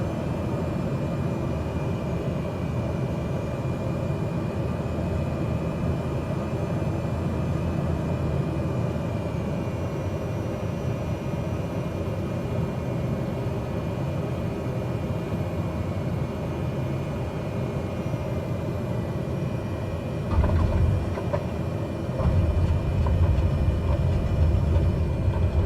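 A Cessna carrying seven passengers lands at Palmerston North, New Zealand, with reverse thrust: a dense, steady engine and propeller roar fills the cabin, then swells into a louder, rougher surge near the end.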